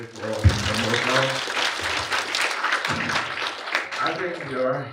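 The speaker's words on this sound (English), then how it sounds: "And give for all applause." An audience at a forum on agricultural labour and urbanization applauds the presenters, a moderate clapping that runs beneath someone speaking over it.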